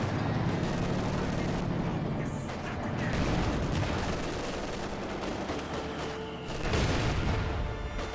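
Shells striking a mortar emplacement in Company of Heroes 2, a series of booming impacts and rumbling blasts under continuous battle noise, with louder hits near the start, middle and end.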